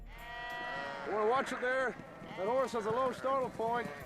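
A flock of sheep bleats in repeated wavering calls, several overlapping bleats rising and falling in bursts at moderate distance, with no speech over them.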